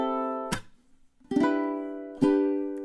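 Ukulele strummed through measure 10 of a song, three separate strums each ringing out with sustained chord tones, a short quiet gap after the first, played alone close up.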